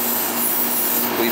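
Steady broadband hiss of air bleeding from an R22 refrigerant hose on an old home AC system, continuous and close for the whole moment, with no pauses.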